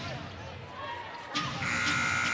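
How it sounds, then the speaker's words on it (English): A loud, sustained basketball shot clock buzzer sounds over crowd noise and commentary after a brief thud, at a WNBA game. "To beat the shot clock buzzer"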